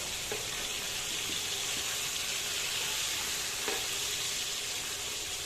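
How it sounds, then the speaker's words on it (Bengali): Pieces of rohu fish frying in hot oil in a pan, a dense steady hiss and crackle with a couple of faint knocks as the fish is turned, no talking. "আমার মাছটা ভাজা হচ্ছে, আমি এটা উল্টে পাল্টে ভেজে নিচ্ছি"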